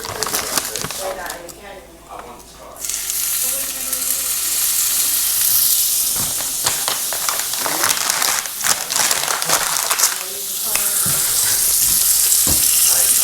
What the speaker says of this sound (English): Drop the meat in, immediately it starts to sizzle and starts cooking up.